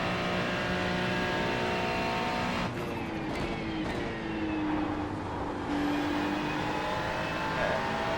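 GT race car lapping Mount Panorama in the iRacing sim, a steady loud engine drone with shifting pitch as it accelerates and changes gear, continuous throughout with no talk.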